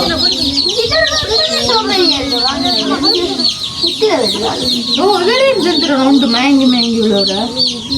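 A small flock of chickens with chicks cluck and cheep continuously, loud and close with overlapping calls throughout, with possible voices mixed in.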